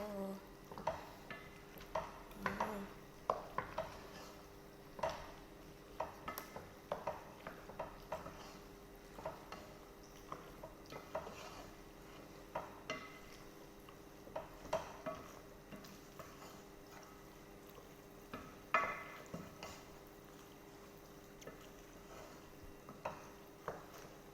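Red pasta with macaroni being stirred in a pan, with a long run of faint, irregular scraping and tapping of a utensil against the pan, quiet and close, with no talk.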